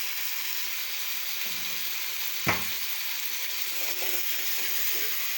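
Fish curry with turmeric sizzling steadily in a pan, a continuous close frying hiss with one brief knock of a stirring spoon against the metal partway through, no talking.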